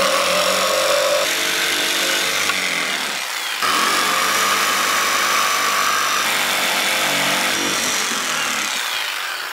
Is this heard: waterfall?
no